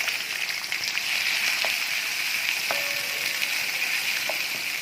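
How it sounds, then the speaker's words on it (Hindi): Onions sautéing in a pan for parwal kalonji, a steady loud sizzle that fills the whole stretch without pause, with faint scattered clinks and no talking. "अब हम इसको अच्छी तरह से सॉट कर लेंगे।"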